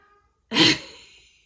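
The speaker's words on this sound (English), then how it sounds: "that really weird noise is Freya trying to meow with a toy in her mouth" A cat tries to meow while holding a toy in its mouth, giving one short, muffled, breathy yowl that rises suddenly and trails off, close by and alone.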